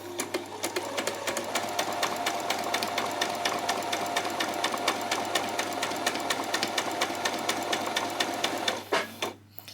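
A sewing machine stitches a peasant skirt seam at a 3/8-inch allowance, a steady rapid mechanical whir with a constant needle rhythm that runs close and loud, then stops near the end.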